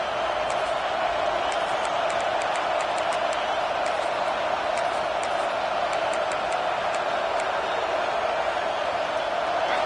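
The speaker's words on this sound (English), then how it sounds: "listen to this crowd noise. This stadium is vibrating." Steady roar of a packed stadium crowd at a football game, a dense continuous wash of voices filling the whole stretch at an even level, with faint sharper accents scattered above.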